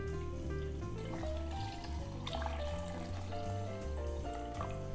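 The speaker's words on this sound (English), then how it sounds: "And pour your water to the side." Water poured into a pot of whole chicken for Korean ginseng chicken soup, a steady continuous gurgling pour heard up close and alone.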